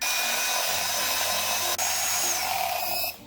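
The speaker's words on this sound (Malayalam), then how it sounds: "ഈ പഞ്ചസാരയോടെ ഇതിലേക്ക് ഇട്ടിട്ട് ഇതൊന്ന് ബീറ്റ് ചെയ്ത് കൊടുക്കാം." An electric hand beater whisks sugar into cake batter for a stovetop sponge cake, giving a steady, loud motor whine throughout, with one brief dip near the middle before it cuts out at the end.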